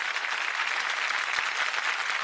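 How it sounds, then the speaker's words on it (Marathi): Studio audience on a Marathi TV singing competition breaking into strong, sustained applause, an even wall of clapping with a faint crowd murmur beneath it. "एकदा जोरदार टाळ्या झाल्या पाहिजेत अमित दादासाठी"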